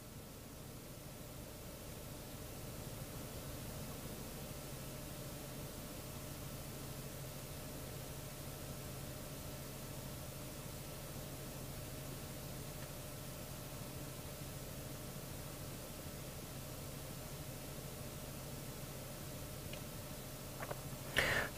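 Steady, quiet cabin noise inside an idling Suzuki Vitara, a low broadband hum with a faint fan-like hiss throughout, no one speaking, and a brief small click near the end.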